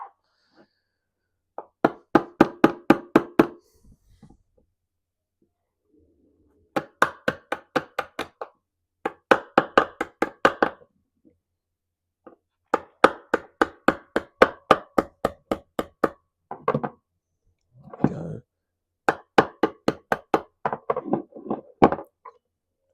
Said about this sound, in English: you can then tap them the whole way through fully.